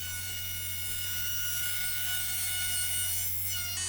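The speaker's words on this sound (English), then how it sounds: "Now I could use my cordless AEG router to round over all the edges on all the pieces." A cordless AEG router rounding over the edges of wooden bird feeder pieces gives a steady, close high-pitched whine with a constant motor hum. It runs without a break and rises slightly near the end.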